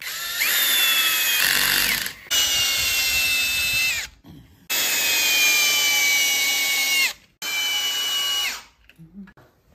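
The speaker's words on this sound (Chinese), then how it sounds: "现在我们拧螺丝，让大家听一下电钻在拧螺丝的声音变化，来判断是否紧固。" An electric drill drives screws into a TV wall mount on a lightweight brick wall, giving three long bursts of steady motor whine with short pauses between them, loud and close.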